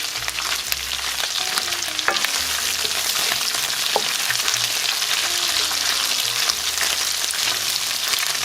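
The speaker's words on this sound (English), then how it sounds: "I'm gonna stir it up one more time before I strain the chile." Stewed beef for carne con chile colorado sizzles and sears in a pan over medium heat, with a steady loud frying hiss and scraping stirs running throughout.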